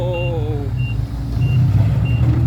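A dump truck's reversing alarm sounds repeated evenly spaced beeps over the loud low rumble of its diesel engine, close by.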